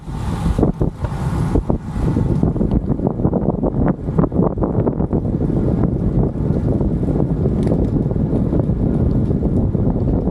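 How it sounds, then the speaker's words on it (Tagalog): Steady wind rushes past the microphone during an afternoon bike ride in Dubai, a loud continuous buffeting roar with gusty low rumble and no talking. "So it's a windy weather afternoon."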